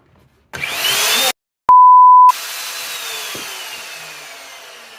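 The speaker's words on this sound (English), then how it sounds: "Once the frame was down, it was time to get out the router and cut my inlay." A router cutting an inlay into a tabletop roars in a short, loud burst and cuts off. An electronic beep follows, and then a softer hiss slowly fades away.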